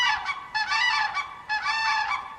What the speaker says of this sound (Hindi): बतख को कहते हैं गूस।